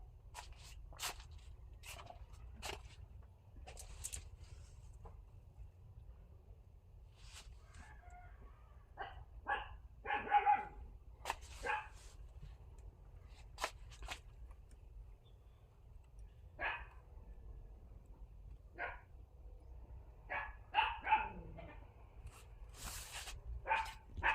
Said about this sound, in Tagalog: Tumatahol yung aso dito.